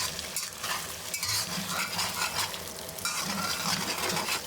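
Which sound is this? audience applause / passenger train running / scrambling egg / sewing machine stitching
scrambling egg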